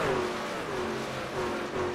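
Race truck engines in an iRacing sim truck series event at Atlanta rev in a steady, loud drone with slowly wavering pitch, sustained throughout and with no voices.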